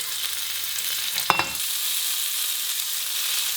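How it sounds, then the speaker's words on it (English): Prosciutto-wrapped scallops set into a hot pan to sear, a steady bright sizzle with one brief clatter as a scallop goes in, close up and with no voices. "So first I'm going to place the scallops on the edge of the pan."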